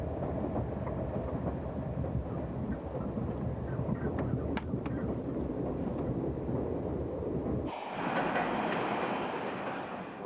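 Train running along the rails, a steady rumbling roar with faint clicks and rattles, shifting to a brighter, rushing wind-like noise near the end, continuous and without talk.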